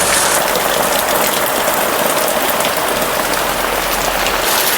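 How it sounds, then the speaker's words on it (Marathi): Heavy monsoon downpour pours down outdoors, a dense, loud, continuous hiss of rain hitting surfaces, steady throughout with a faint engine-like rumble beneath and no speech. "मुसळधार पाऊस पडतोय बघा"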